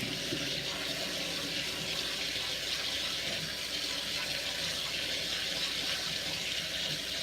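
Cold tap water runs steadily over cooked pasta in a sink, a continuous close splashing rush that holds at an even level for the whole stretch with no voices.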